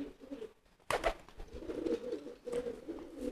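Close cooing of a young pigeon in training, low throaty coos repeating over a few seconds, with a brief rustle or flap partway through.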